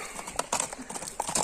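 Bay horse in Bazar-Korgon district, hooves clip-clopping in a quick, uneven series of close thuds, with faint background noise and no clear talk.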